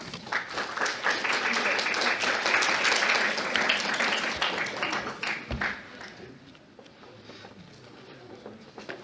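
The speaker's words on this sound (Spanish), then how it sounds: "Lo recibimos con un fuerte aplauso," Strong audience applause greets a speaker at a medical lecture on head trauma imaging, a thick wash of many hands clapping loud for several seconds, then thinning and fading toward the end.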